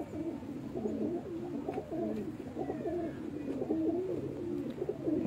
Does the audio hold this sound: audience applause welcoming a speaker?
no